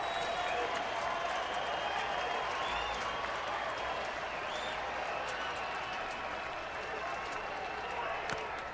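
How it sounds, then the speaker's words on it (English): Baseball stadium crowd at a San Francisco at Arizona game cheering as a broad, steady roar, a dense wash of distant voices and clapping that holds at an even level throughout. "You can hear the crowd."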